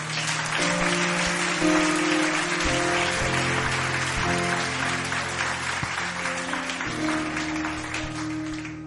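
A church congregation claps together in a sustained, even round of applause over a backdrop of organ or keyboard chords holding steady throughout.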